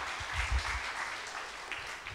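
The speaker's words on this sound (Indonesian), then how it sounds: "Tepuk tangan bagi Tuhan yang hebat." A church congregation applauds at an anniversary service, a steady wash of many hands clapping together at moderate distance for the whole short stretch.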